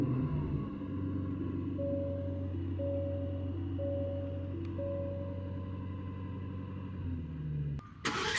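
A 2025 Aston Martin DB12 engine starting and settling into a deep, steady idle rumble with a faint high whine, close and alone, ending in a sharp clunk.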